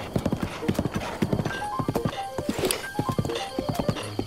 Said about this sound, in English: Oh, hold on, horse.